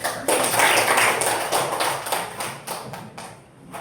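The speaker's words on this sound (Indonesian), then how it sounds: "Ya, berikan tepuk tangan." A classroom group claps at a teacher's prompt during an Islamic lesson on fasting, a burst of close, sharp hand claps that gradually thins out and tapers off.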